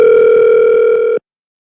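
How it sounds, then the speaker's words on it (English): A loud steady telephone tone holds at one pitch for about a second on a phone line during an outage, then cuts off abruptly into silence. "and I said right now the phone is calling"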